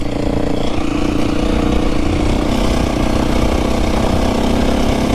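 A KTM 350 dirt bike engine runs while being ridden on icy snow without studs, a loud, close, continuous buzzing drone with steady revs and no pauses, heard alone without talk.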